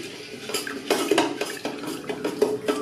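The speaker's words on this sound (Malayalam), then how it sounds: "ഇനി നമ്മൾ ഇത് കൈയെടുക്കാതെ ഇളക്കി കൊടുത്തുകൊണ്ടിരിക്കുക." A spoon stirs baby food mixture inside an electric kettle, giving repeated close metallic scrapes and clinks in an uneven rhythm over a faint simmering hiss, with no speech.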